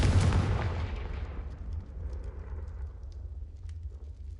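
A Confringo spell blast in Hogwarts Legacy, a single loud booming explosion at the start that rumbles and fades into a low lingering tail.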